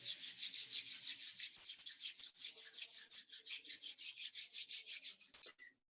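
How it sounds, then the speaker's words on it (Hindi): Two hands rubbed briskly together, a soft dry swishing repeated in a steady rhythm of quick strokes, close and fairly quiet, with no talking. "दोनों हाथ को रब कर लें।"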